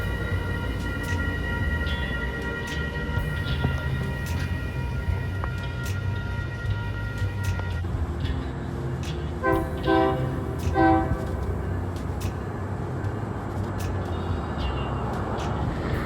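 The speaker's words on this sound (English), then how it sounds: "I heard the horn blast of the southbound M7A" A southbound Metro-North M7A electric multiple-unit train rumbles past in a steady roar, with a short horn blast sounding partway through, heard outdoors with no talk.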